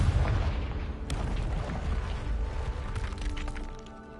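A Confringo spell explosion in Hogwarts Legacy, a loud booming burst with a sharp crack near the start, followed by rumbling debris and crackle that slowly fades.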